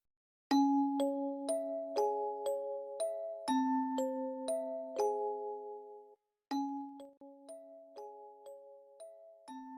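A notification bell chime plays a bright, ringing ding-dong melody of repeated tuneful tones, clear and alone, broken by one short silence before the pattern starts again.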